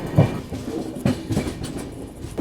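Kolhapur–Gondia Maharashtra Express train approaching in rural Maharashtra, a loud continuous rumble with rhythmic clattering of wheels over rail joints close by.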